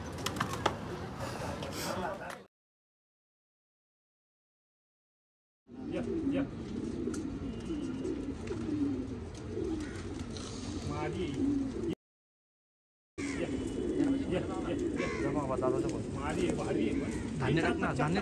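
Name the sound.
pigeons cooing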